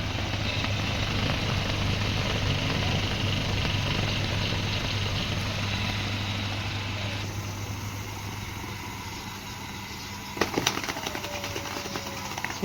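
A diamond polishing wheel spins with a sari caught in it, giving a loud, steady whirring drone that continues throughout, with a short sharp clatter near the end.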